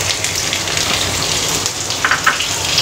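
Sliced onions fry in hot oil with cumin for Punjabi rajma masala, giving a loud, close, continuous sizzle with a few crackling pops.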